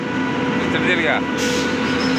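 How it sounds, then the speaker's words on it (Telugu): A passenger train travelling toward Vijayawada rumbles steadily from inside the carriage while a person speaks briefly over the running noise. "ఈసారి మేము ట్రైన్ ఎక్కుతున్నాము"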